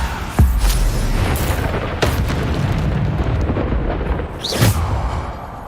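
Bombarda explosion spells cast in the video game Hogwarts Legacy: a deep booming blast near the start, another sharp burst midway and a third later on, each rumbling over a dense continuous game backdrop.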